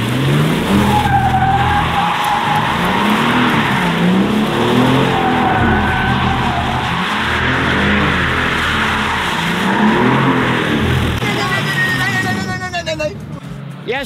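A car drifting with tires skidding and squealing continuously, the engine roaring and revving underneath, loud and close throughout with a brief change near the end.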